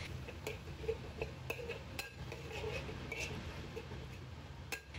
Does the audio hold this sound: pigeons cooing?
no